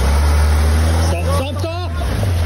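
A 4x4 pushing up a clay slope: the engine gives a steady, loud, low drone throughout, and a voice cuts in briefly in the middle.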